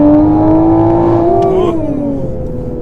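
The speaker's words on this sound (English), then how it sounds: "We'll do a quick third gear pull." A modified 2020 Toyota Supra making 527 hp pulls hard in third gear, heard from inside as a loud, smooth engine note climbing steadily in pitch for about two seconds before easing off.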